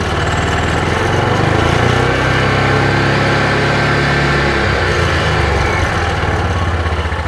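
A 2021 Axis 500 engine revs in neutral, running loud and close with a steady mechanical drone that swells and falls slightly in pitch, and nobody talks over it.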